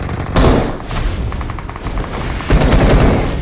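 Rapid automatic gunfire in the mobile battle-royale game PUBG Mobile, loud and close, with bursts of rattling shots followed by short pauses and a steady crackle between them, no voices.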